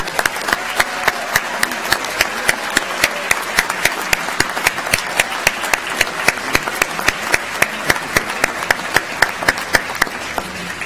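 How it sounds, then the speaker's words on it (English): Sustained applause from a commencement audience for master's degree candidates, dense steady clapping with sharper individual claps standing out, loud and continuous throughout without talk. "Let's give all the master's candidates one more round of applause"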